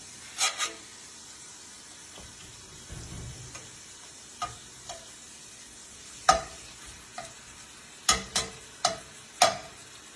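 A ribeye steak frying in a pan gives a faint, low background sizzle broken by sharp clicks and pops, some in quick clusters, with no voices.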